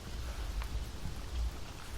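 Steady rainfall makes a continuous, even hiss and patter with no voices, a close and unbroken wash of sound.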